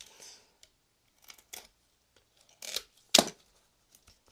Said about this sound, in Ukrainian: Поки ноутбук завантажується, розпаковуємо павербанк